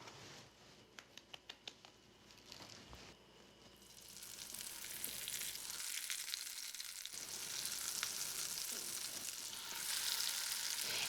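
Floured food fries in hot oil in a pan for a Spanish dish, starting with a few sharp taps and then settling into a dense, steady sizzle and crackle that builds louder, close up and without talking.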